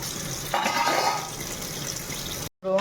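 Dishes being scrubbed and rinsed under running water in a home kitchen, a steady rush from the tap with brief clinks, then a sudden cutoff and restart near the end.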